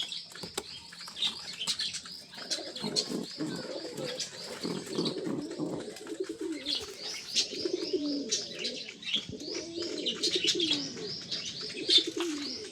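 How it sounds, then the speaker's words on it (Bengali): Cross-breed pigeons in a home loft coo steadily in low rolling phrases, layered with bright chirps and occasional wing flaps, continuous and fairly close throughout. "আমার ক্রস ব্রিডের পায়রা বেশি"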